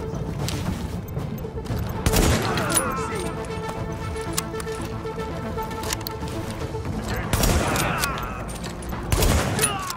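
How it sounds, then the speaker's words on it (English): Gunfire from The Division video game crackles in sharp bursts around two, seven and nine seconds, set against a continuous game soundscape with tonal hums and clatter, while a person talks over the action. "Who are they shooting at?"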